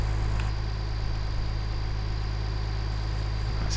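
A tractor engine in Farming Simulator 19 pulls a heavy trailer full of sloppy mud, giving a steady, close, low droning rumble with a constant hum and no pauses or talk.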